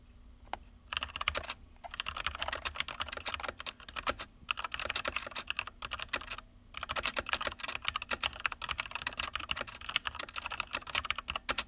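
Typing on an Adata XPG Summoner gaming keyboard with Red switches, a quiet, rapid, uneven patter of key presses with brief pauses, close up and alone.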